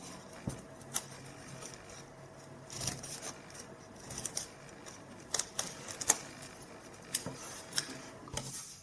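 Scissors make a string of small, crisp snips while trimming a folded paper snowflake, close and quiet, the cuts coming at an uneven, unhurried pace with no talking.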